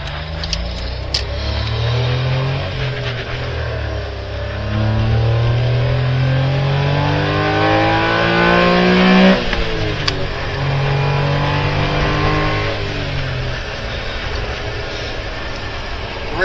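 Sports cars on a track day at Barber Motorsports, an engine note rising and falling in a steady, continuous drone with a swell midway, with no talk over it.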